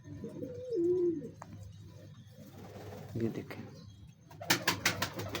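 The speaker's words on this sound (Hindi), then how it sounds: "बड़ा पैक कबूतर है, पूरा पाई कबूतर है" Pigeons from a large fancy pigeon collection, with a low cooing bird sound early on and someone talking over it in Hindi-Urdu, followed by bursts of handling noise near the end.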